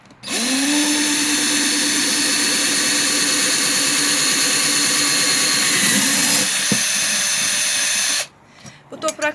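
A power drill bores drainage holes into a small painted terracotta flower pot, whining steadily and loudly for about eight seconds before stopping abruptly, followed by a few faint knocks.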